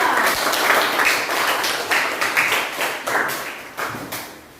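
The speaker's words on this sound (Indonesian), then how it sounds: "Tepuk tangan untuk kelompok 2" A classroom audience applauds group 2 after their presentation, a busy, even wash of many clapping hands that swells in waves and fades toward the end.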